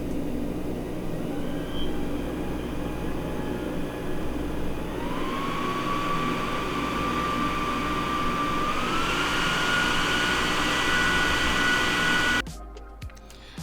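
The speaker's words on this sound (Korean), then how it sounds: "주변 승객들도 인지할 수 있을 정도의 모터 소음이 발생했습니다" Continuous whirring motor hum from the air purifier of Dyson Zone headphones, close and steady, with a faint high whine rising partway through before cutting off abruptly near the end.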